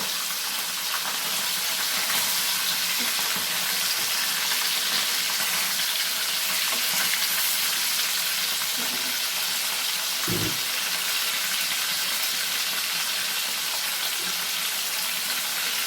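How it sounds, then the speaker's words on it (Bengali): Bhola fish fries in hot oil with a steady, even sizzle and hiss that runs unbroken for about sixteen seconds, with one soft knock partway through and no voices. "মাছটা ভাজা বসিয়েছি"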